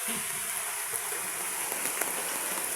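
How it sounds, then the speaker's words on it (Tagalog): Heavy rain pours steadily in the evening during flooding, heard from a covered court as a dense, continuous hiss with occasional sharper drops. "So, 2 hours na ang ulan na sobrang lakas."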